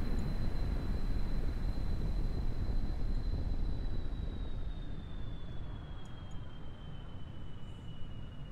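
Steady, continuous drone of an airplane engine in Kerbal Space Program, a low rumble with a thin high whine that slowly drops in pitch, holding level throughout with no talk.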